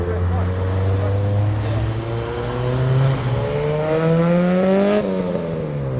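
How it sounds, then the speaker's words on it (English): A Vauxhall Vectra pulls away from a busy car meet, its engine note building steadily and rising in pitch as it accelerates, moderately close, with a brief surge near the end. "Here goes the Vectra."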